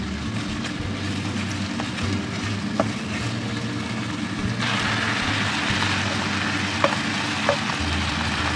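Marinated pork frying in a pan gives a steady, dense sizzle that grows a little brighter partway through, with a few soft clinks as it is stirred.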